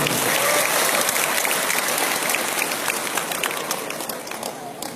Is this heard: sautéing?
no